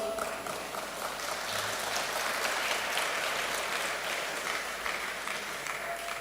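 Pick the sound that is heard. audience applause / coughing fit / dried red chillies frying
audience applause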